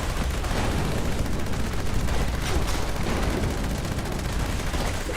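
Gunfire in Fallout 76, a dense, continuous clatter of rapid shots heard close and loud, with no pauses across the stretch.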